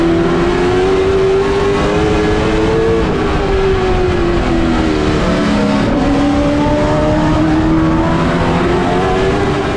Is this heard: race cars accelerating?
yes